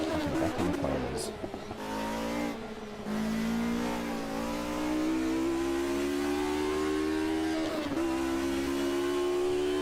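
Race cars in the sim racing game Automobilista 2 rev and accelerate, a loud buzzing engine note rising in pitch through gear changes with brief drops between shifts, continuous and close.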